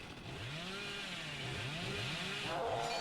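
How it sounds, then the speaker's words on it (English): A chainsaw in a video game revs in repeated rising and falling whines, a steady mechanical drone that stays moderately loud and continuous, with no speech over it. "Using his chainsaw is really hard."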